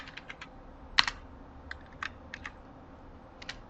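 Sparse clicks of a computer keyboard as code is typed, short irregular keystrokes with one sharper tap, close and fairly quiet with no talking.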